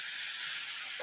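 Bitter gourd seasoned only with salt and turmeric frying in a pan, giving a steady soft sizzle and hiss that stays close and even throughout, with no talking.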